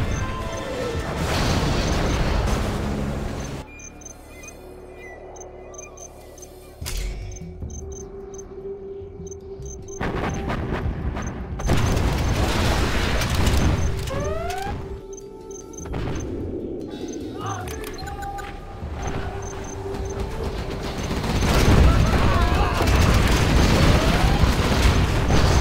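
Inferno Cannon artillery firing in the China campaign final mission of Command & Conquer: Generals: repeated loud booms and bursts over mechanical battle noise, with occasional game voice lines.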